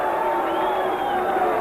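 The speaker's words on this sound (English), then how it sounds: "There is some booing for the crowd." A boxing arena crowd roars in a steady wash of noise, a sustained murmur of disapproval from many spectators with no single voice standing out.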